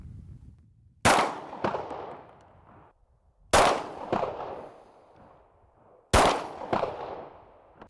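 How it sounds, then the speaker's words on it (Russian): Three sharp pistol shots at a practical shooting championship in Sevastopol, spaced a few seconds apart, each followed quickly by a second report and a ringing decay; close and loud. "Готовы к стрельбе. Он я не на предохранителе. Ну все, да. Да. По два выстрела."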